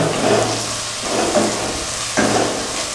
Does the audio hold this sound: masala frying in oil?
yes